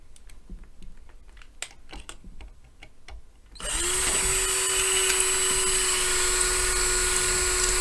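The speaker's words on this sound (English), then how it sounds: "drill up essentially through the lid there" Light tapping and clicking give way to a power drill with a larger bit boring upward through a lid; it starts abruptly and whines loudly and steadily, grinding continuously until the end.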